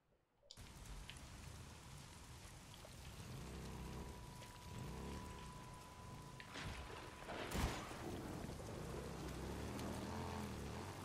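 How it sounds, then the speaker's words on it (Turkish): Steady rain pours across the open world of the video game Days Gone, a dense continuous hiss on surfaces with a brief louder burst midway, heard alone without voices. "İyi yağmur bastırdı bu arada"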